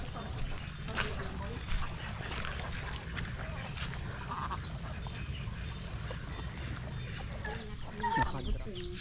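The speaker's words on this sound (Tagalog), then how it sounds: "nandito po yung ating mga itik" A flock of domestic ducks quacks and chatters near and fairly loud, a busy, overlapping stream of calls running under a person talking.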